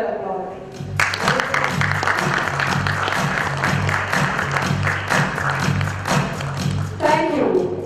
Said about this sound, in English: I don't think he's going to get on stage unless he hears that applause